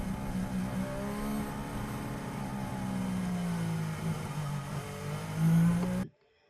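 Formula One car engine running at steady pace behind a safety car at the 2021 Abu Dhabi race, a loud sustained droning hum that swells briefly near the end before cutting off abruptly.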